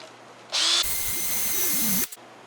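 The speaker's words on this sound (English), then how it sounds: "Power tools." A handheld power tool, drill-like, whirs loud and steady for about a second and a half while cleaning a rebuilt big block Chevy engine, preceded by a short high whine and cutting off abruptly.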